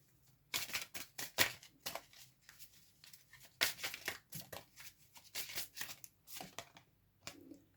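A deck of tarot cards being tidied and squared gives soft, close bursts of papery shuffling, riffling and tapping in irregular clusters with short pauses.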